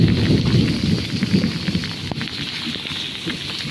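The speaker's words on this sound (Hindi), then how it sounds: "ये है हमारा प्यारा दुलारा बंसी और ये बारिश में नहा रहा है।" Steady rain falls outside a house, a dense, close and continuous hiss of drops with no voices.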